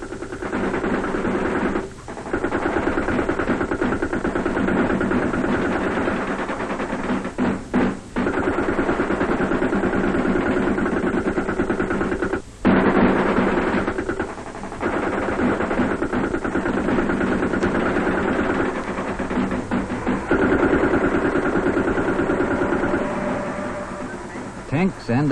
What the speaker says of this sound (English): Tank support allows the diggers to advance under close covering fire with a minimum chance of suffering casualties.